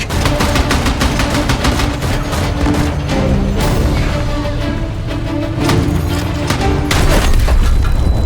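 Tank combat in the video game Battlefield 6 brings a loud, dense barrage of cannon booms, explosions and rapid gunfire, with sharp repeated blasts over a rumbling battlefield bed.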